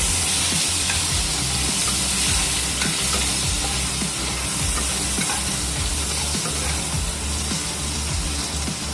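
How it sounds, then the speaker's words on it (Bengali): Chopped onion sizzles and crackles in hot oil while being stirred for a Bengali stingray fish curry, a loud continuous frying hiss broken by scraping stirs, with no voices. "এখানে একটা পেঁয়াজ কুচি নিয়ে নিয়েছি, ভালো করে নেড়ে হালকা ভেজে নেব।"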